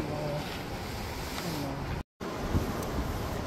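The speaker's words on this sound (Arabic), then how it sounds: "ها كاين الريح بزاف يا ولدي اللي كاين" Strong seaside wind gusts across the microphone during a fishing outing on the coast, a steady loud roar with a brief dropout midway and a faint voice underneath.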